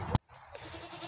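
Goats bleating in a farm pen bedded with wood chips: one short, loud bleat at the start, followed by a low, quiet pen background.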